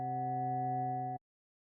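A single sustained electric piano note from Logic Pro's ES2 synth with sine oscillator, pure and bell-like in its harmonics, holding steadily for about a second before stopping cleanly.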